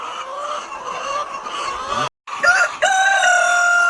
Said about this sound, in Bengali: আপনারা দেখতে পাচ্ছেন আমাদের মোরগ এবং মুরগিগুলো